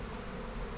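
A swarm of bees buzzes in the video game Massive Chalice, a dense, steady, loud drone filling the moment with no talk.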